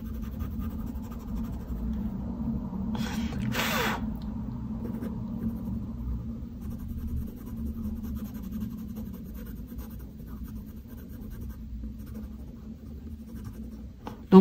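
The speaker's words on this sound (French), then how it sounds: "Et vous allez colorier tout ça." Colored pencil scratching steadily across paper while coloring snow, a soft continuous rasp close up with one brief brighter stroke early on.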